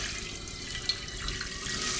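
Clean fresh water runs steadily from a kitchen tap as beef for pastrami is soaked, a continuous hissing rush with one small splash partway through.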